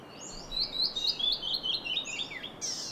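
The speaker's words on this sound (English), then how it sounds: "A canyon wren chirps while sitting on an outcrop of rocks." A canyon wren perched on a rock outcrop in Kings Canyon gives a rapid run of bright, high chirps, a quick descending series of about a dozen clear notes, close and alone.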